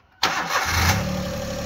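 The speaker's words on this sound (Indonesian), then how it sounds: "posisi sudah nyala mesinnya halus ya mesin halus" A Daihatsu Xenia VVT-i car engine, 2008–2009 model, cranks and catches after a moment of quiet, then settles into a steady, smooth idle close by.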